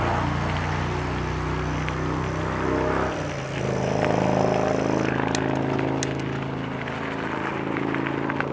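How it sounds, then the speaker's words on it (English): A motorcycle passes on a gravel trail route near Furnace Falls, Ontario, its loud engine drone steady and close throughout, swelling midway as it goes by. "Motorcycle."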